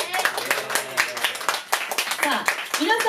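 Audience at a live music show claps for an improvised-song segment, scattered hand claps overlapping with voices speaking and exclaiming nearby throughout.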